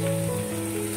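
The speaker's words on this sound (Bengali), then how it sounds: "পেঁয়াজটা প্রায় ভাজা" A brief stretch of onions frying in a pan in a home kitchen, a close and steady crackling sizzle over a low hum, with no talking.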